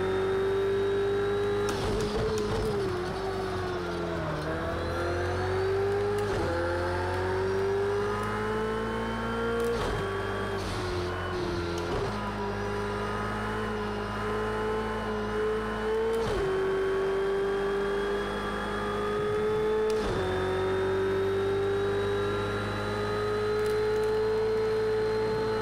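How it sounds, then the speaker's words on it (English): A GT3 race car engine screams at full throttle at Road America in Project Cars 2, a loud, sustained high whine that rises through gears with brief dips at each shift and faint tyre noise. "Finally, I made it on a full throttle."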